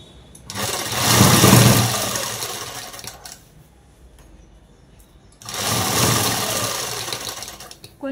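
Sewing machine stitching a Punjabi-style dress top, running in two sustained bursts of steady mechanical whirring with a quiet pause between them.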